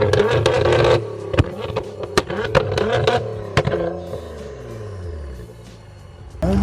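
Nissan GTR doing a launch-control start on snow, with a loud engine burst and revs, rough scraping and crackle, then fading away, with no voices.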